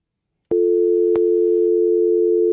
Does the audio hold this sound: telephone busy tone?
yes